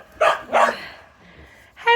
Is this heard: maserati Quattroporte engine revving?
no